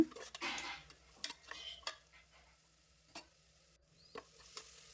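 Ground coriander and chili powder fry in a pan at low volume, with short scraping stirs and taps of a spoon against the pan breaking up a quiet, gentle sizzle.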